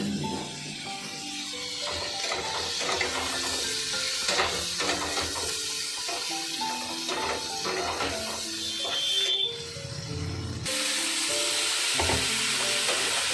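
Potato and soybean curry fries with ginger paste in a pan, giving a continuous loud sizzle with occasional stirring scrapes, up close and steady throughout, no speech.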